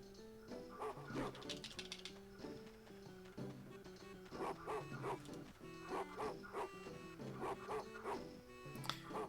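A dog in The Hobbit, the PAL version of the Game Boy Advance game, barks repeatedly in quick synthetic yips and bow-wows that keep coming throughout, fairly close and clear.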